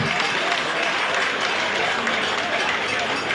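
Audience applause at an official handover ceremony of the Ministry of Mines and Energy, a brief, even wash of clapping from a crowd throughout.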